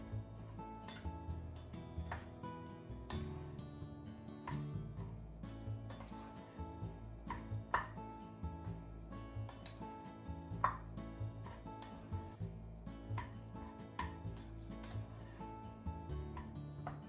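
A spoon stirs soy sauce and sugar together in a bowl, giving soft, steady clinks and scrapes against the bowl that stay faint and close, with a few brighter taps mixed in.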